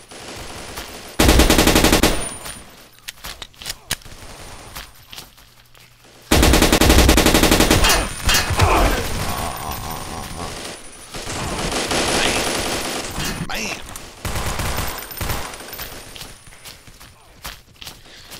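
Gunfire in the blocky online shooter Blockade 3D on the versusTowers map: two loud bursts of shots, the second sustained, with scattered quieter shots, clicks and footsteps between them.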